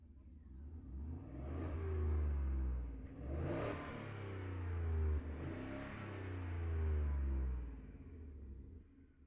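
A 2024 Ford F-150 Tremor V8 truck engine fires up and revs several times, deep rumbling swells rising and falling in a few distinct surges, close and loud with no talking.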